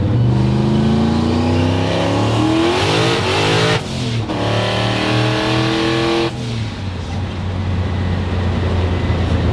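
A big-turbo Coyote V8 swapped into a Shelby GT500 pulls hard in second gear, a loud, close engine note climbing steadily in pitch, with brief lifts around shift points and no talking.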